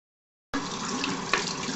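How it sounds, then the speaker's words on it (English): Running tap water splashes steadily over clip-in Remy human hair extensions being rinsed in a sink, a constant close hiss starting abruptly after a brief silence, with one small splash midway. "So we're just going to rinse it."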